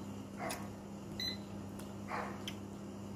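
An air fryer is set to roast chicken, giving a few short electronic beeps and button presses, quiet and close, over a low steady kitchen hum.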